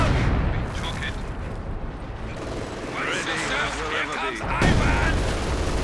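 Rapid gunfire and dull booms of an attack on the HQ in Company of Heroes 2, a dense continuous battle din with crackling shots under steady game noise and no talk.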